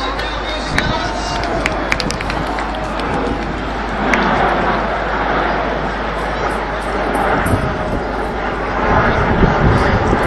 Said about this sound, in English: Now into the right-hand side, they'll fly the Eagle roll.